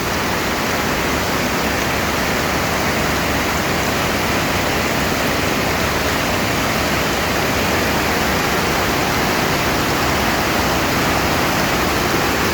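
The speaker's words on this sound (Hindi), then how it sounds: "ये झरना यहाँ से निकलकर सामने झील में जाकर मिल जाता है।" A monsoon waterfall pours into a lake, a loud, steady rushing roar that never lets up, close by and heard alone without any voices.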